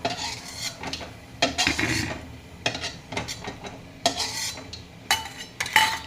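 Cashews being stirred as they roast in a pan, with irregular scraping and clinking strokes of a utensil against metal, close and fairly loud, over a faint sizzle.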